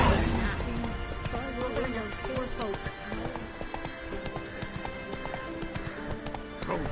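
A horse gallops in The Witcher 3 video game, its rapid rhythmic hoofbeats clopping steadily under game music and voices talking.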